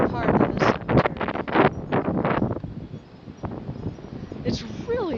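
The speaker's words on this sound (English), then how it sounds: "I wish it wasn't so dang windy so that I could enjoy the walk more" Strong wind gusts through a sunny cemetery, buffeting the microphone with rough rumbling bursts while a person talks over it.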